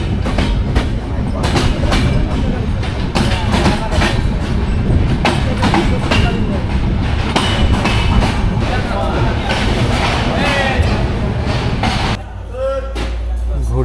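Night Ekota Express train departing Joypurhat station toward Dhaka: continuous heavy rumbling and clickety-clack of wagons from inside the coach, loud and steady, with voices in the background before the noise drops near the end.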